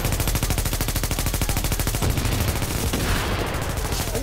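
Loud, rapid automatic gunfire rattles without a break in a video game firefight, a dense burst of shots that continues the whole time.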